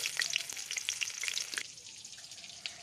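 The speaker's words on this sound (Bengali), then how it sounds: "এখন দিয়ে দিচ্ছি পেঁয়াজ কুচি" Oil sizzles and crackles in a pan as chopped onions hit it, busy spattering at first, then settling into a steadier, quieter fry.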